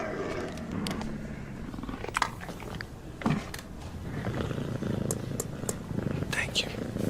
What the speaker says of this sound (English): It's a puma.